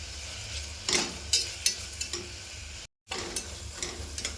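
Tomatoes sautéing with a little salt in a pan, heard as a soft, steady sizzle broken by several sharp scraping stirs and a brief dropout near the end.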